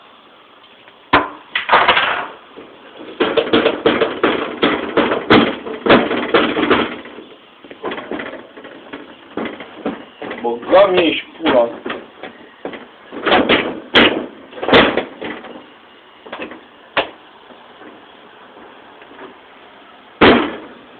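Someone struggles with a stuck but unlocked door, making repeated loud rattles, bangs and thumps in irregular bursts over about twenty seconds, with a few pauses and a brief spoken exclamation.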